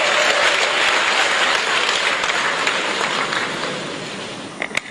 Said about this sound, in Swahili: piga makofi mengi na vigelegele kwake tafadhali